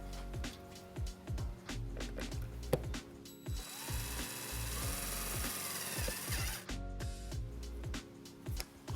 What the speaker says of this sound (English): Now we're going to attach our white wire to the ground with our provided self-tapping screw.